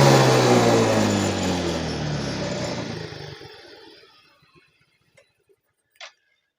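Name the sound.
Yamaha Mio M3 scooter engine revved at full throttle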